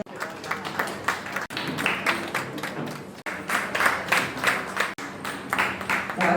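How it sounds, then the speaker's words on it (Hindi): Enthusiastic audience applause at an anniversary honours ceremony, a steady wash of many hands clapping loudly for the full stretch, swelling in waves with brief dips, and no talk over it. "तो एक बार जोरदार तालियां हो जाए"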